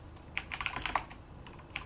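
Rapid, light clatter of typing on a computer keyboard: a quick burst of keystrokes, close and fairly quiet, with a pause before one last tap.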